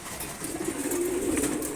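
Pigeons coo softly while eating their morning feed in a loft, a steady low rolling murmur running through the whole moment, fairly close, with no talk.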